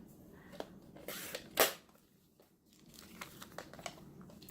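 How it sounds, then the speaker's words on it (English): Scissors slice through folded paper for a spring tag booklet, giving one sharp crisp snip amid a few faint paper rustles in a quiet room. "I'm just going to cut it right in half"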